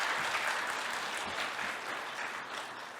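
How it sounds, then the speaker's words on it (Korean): A meditation conference audience breaks into applause for a monk after her lecture, dense, continuous clapping from a sizable crowd that holds steady and then eases off slightly toward the end. "우리 서강 스님께 큰 박수 부탁드리겠습니다."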